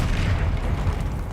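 A Bombarda blasting spell goes off in Hogwarts Legacy during a troll fight, a loud, dense boom with a low rumbling body that carries through the whole moment.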